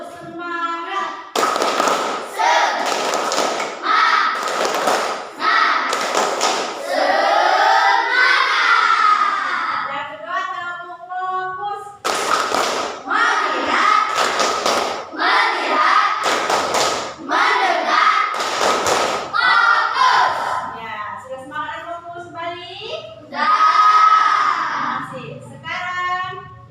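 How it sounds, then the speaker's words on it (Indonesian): A classroom of students doing a rhythmic spirit clap (tepuk semangat) and focus clap, bursts of patterned claps in quick sets alternating with chanted voices and a teacher leading, loud and close. "kita melakukan tepuk semangat dan tepuk fokus"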